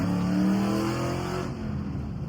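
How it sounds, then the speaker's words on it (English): A Ford Mustang with the 4.6 3V engine bounces off the rev limiter in first gear, a loud sustained near engine roar with a stuttering, pulsing high-rpm tone. "I was not expecting to immediately go straight to the rev limiter in first gear"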